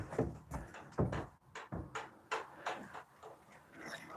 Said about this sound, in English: let's open up this door